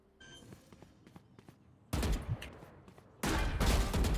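Gunfire from a gunfight in the video game Free Fire: quiet scattered shots and footsteps at first, then two loud, dense bursts of rapid automatic fire close up.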